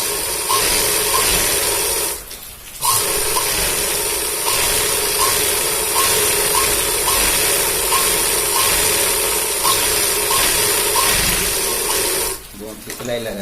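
Sewing machine stitching a folded hem on a pair of trousers, running as a steady, continuous mechanical whir with a repeating fast rhythm, broken by two brief pauses.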